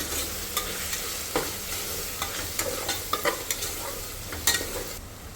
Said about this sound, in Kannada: ನಾನು 1 ಸ್ಪೂನಷ್ಟು ಖಾರದ ಪುಡಿ ಹಾಕ್ತಾಯಿದ್ದೀನಿ. ಸ್ವಲ್ಪ ಫ್ರೈ ಮಾಡ್ಕೊಳ್ಳೋಣ.